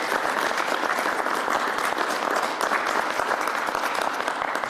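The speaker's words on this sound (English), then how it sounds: "Even though she's not here, give her a round of applause." An audience at a mayoral event gives a round of applause, crisp, sustained clapping from many hands at a steady, moderately loud level.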